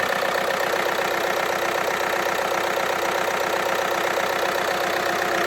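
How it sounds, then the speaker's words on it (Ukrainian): Skoda Octavia A5 engine idles steadily up close, a continuous even rumble with a regular mechanical ticking rhythm and no speech over it. "От так працює двигун на Октавії."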